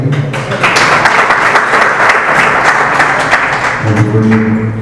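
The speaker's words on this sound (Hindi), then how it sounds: "ये तालियां सुन रही है," Audience applause during a spoken Hindi religious discourse, a dense, steady clatter of many hands that sounds close and loud, filling nearly five seconds, with a voice briefly cutting in near the end.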